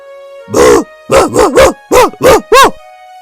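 Voiced imitation of dog barking by a man: seven loud, close barks in short bursts, some clustered together and some spaced apart.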